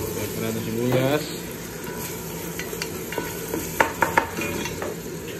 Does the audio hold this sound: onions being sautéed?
yes